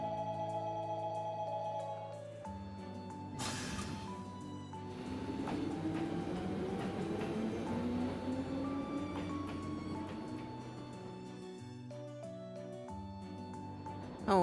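Train ride in the Trails of Cold Steel video game, with a steady rolling rumble and soft background music running throughout, the level holding constant from start to end.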